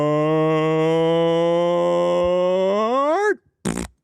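A person imitates a fart with the mouth, producing one long, loud, buzzing, droning blast that bends upward and cuts off, followed after a brief gap by a short sputtering burst.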